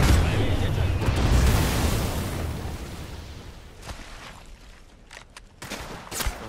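Rapid gunfire rattles and booms in Apex Legends, a dense loud volley at first that thins into scattered sharp shots, with a voice speaking briefly over the game sounds.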